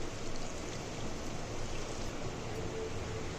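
Roughly half a cup of water is poured into simmering chickpea masala, a steady splashing, bubbling wash heard close up and fairly loud, with no speech.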